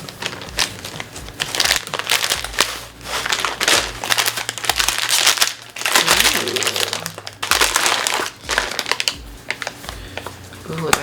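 A plastic bag holding a push-up bra crinkles and rustles in repeated bursts as it is handled and opened close by, with a person talking throughout.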